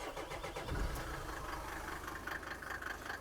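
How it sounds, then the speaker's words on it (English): Mercedes G-Class 250GD with an OM605 five-cylinder turbo diesel and intercooler, starting and settling into a steady rough idle, heard faint and alone. "Let's start the engine."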